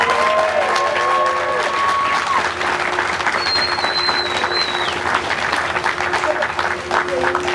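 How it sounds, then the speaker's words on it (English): An audience at the 2018 Maine Sea Goddess Coronation claps and cheers for Sharon Lombardo, loud sustained applause with sharp whistles and shouts rising over it, fading slightly toward the end. "I hope you give a rousing cheer"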